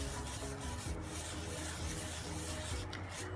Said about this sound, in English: take this scrubber with a very light hand, without adding any pressure at all. I'll just start scrubbing it.